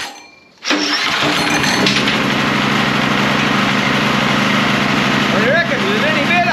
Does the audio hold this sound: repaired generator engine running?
yes